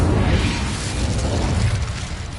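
An Incendio fire spell blasts out in Hogwarts Legacy, a loud, dense booming burst with crackling rumble that fills the moment and slowly tails off, with no talk over it.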